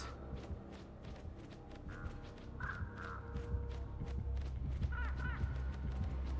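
Crows cawing in a video game, several harsh caws in short bursts over a busy, steady background of game sound, with faint footstep-like clatter underneath.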